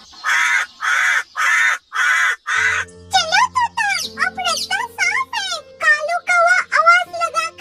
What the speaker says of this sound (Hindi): दूर एक नारियल के पेड़ के ऊपर बैठा कालू कौवा काऊ काऊ